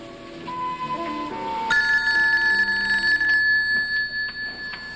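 A telephone rings steadily with a bright, sustained electronic trill that enters partway through, over soft background music.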